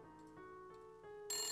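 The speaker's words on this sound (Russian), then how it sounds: "Нам звонят." A telephone rings in a Nancy Drew mystery game, a soft repeating electronic ring tone in short regular pulses, faint and alone.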